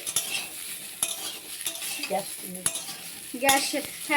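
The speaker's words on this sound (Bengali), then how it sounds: "এবার আম দিয়ে দেবে মা। আমটাকে কিছুক্ষণ একটু নাড়তে হবে।" Mango pieces being stirred in a pan over a low gas flame for a low-oil chutney, with steady scraping and stirring over a light sizzle and a few sharp metallic clinks from the spoon.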